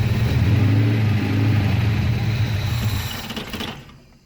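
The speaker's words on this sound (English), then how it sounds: "engine is going to run and completely drain the fuel bowl" A Ford Maverick's ratty V8 with a Holley carburetor runs steadily nearby, a loud, even idle that keeps going until the fuel bowl empties, then sputters and dies near the end.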